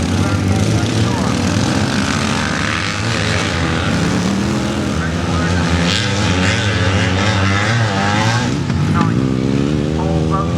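Classic motocross sidecar motorcycles racing off-road, a loud, continuous engine roar with rising and falling revs as machines pass, a voice talking over the noise.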